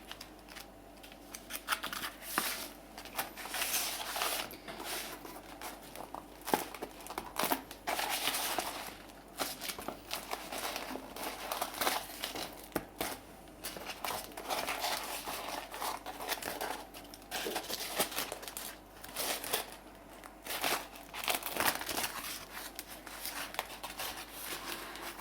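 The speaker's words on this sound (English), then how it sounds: "I'm peeling off something which I shouldn't be doing." Paper being peeled and torn off a recycled scrapbook journal, close and fairly quiet, with a continuous run of scratchy crinkling and ripping textures and no talking.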